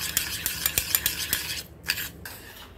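A spoon stirs sugar into cold coffee in a small metal bowl, giving quick repeated clinks and scrapes in a steady rhythm, close and clear, with a short pause near the end.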